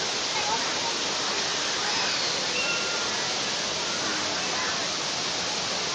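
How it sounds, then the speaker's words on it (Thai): The rushing water of Chet Sao Noi waterfall, a popular swimming spot, pours in a loud, constant roar with no break throughout. "มีเสียงน้ำตกใส ไหลเย็นซ่าดังซ่าซ่าเลยนะครับ"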